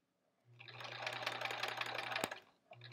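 A sewing machine stitches quilt-as-you-go blocks in one steady, close run of rapid mechanical whirring that lasts about two seconds. It ends with a click, and the motor starts again briefly afterward.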